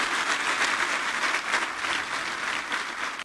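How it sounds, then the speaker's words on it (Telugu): Steady applause from an audience at a motivational talk, dense and continuous clapping filling the room at even loudness for a few seconds before cutting off abruptly. "క్లాప్స్"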